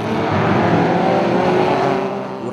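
Off-road endurance race cars run on the Lleida circuit in the first round of the Catalan endurance cup, giving a loud, steady engine roar at fairly close range with no talk.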